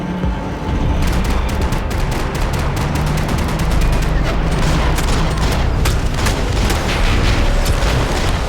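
Heavy gunfire and a chaotic firefight in Max Payne 3, loud and continuous, with overlapping rapid shots, booming impacts and steady background din throughout.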